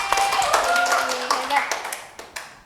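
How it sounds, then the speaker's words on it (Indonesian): Classroom students clapping hands in a microteaching accounting lesson, a brief burst of claps that quickly thins out to a few scattered taps, with a voice and tones sounding over the start. "tepuk tangan"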